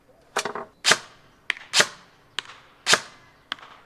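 Airsoft gun fitted with a rubber hop-up firing about six separate sharp shots, crisp snapping pops with short tails, spaced roughly half a second apart, close and loud with no talking.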